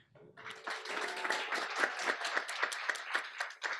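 An audience at a December campus graduation ceremony applauds in a close, rhythmic stretch of clapping that builds quickly and holds steady for a few seconds, with a brief voice at the start.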